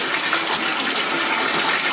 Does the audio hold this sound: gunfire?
no